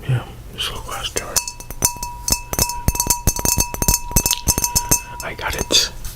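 A small glass jar tapped and clinked in an ASMR setting, producing a quick series of bright, close ringing clinks with lingering tones, accompanied by soft whispering throughout.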